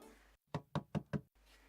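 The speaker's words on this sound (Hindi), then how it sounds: "देख तो कौन दस्तक दे रहा है।" Four firm, evenly spaced knocks on a door, close and crisp, set against a quiet indoor background, with no talking during the knocks.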